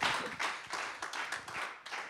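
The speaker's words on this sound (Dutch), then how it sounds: "En jij krijgt van bedankt. iedereen die hier aanwezig is een heel warm applaus." Audience at a local starter-of-the-year award evening gives warm applause, a brief burst of many hands clapping in uneven waves, fairly close and moderately loud, with no voices over it.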